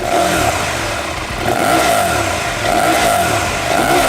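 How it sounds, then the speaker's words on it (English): A 2024 Husqvarna Norden 901 motorcycle, its twin-cylinder engine with a 435-degree firing interval, revs loudly with a throaty, pulsing exhaust note, rising and falling in steady swells across the clip with no talk. "It also produces a really nice note at the exhaust"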